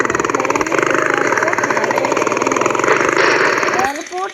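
A video game motorcycle engine runs with a rough, pulsing drone, loud and continuous before cutting off near the end, while a person talks over it.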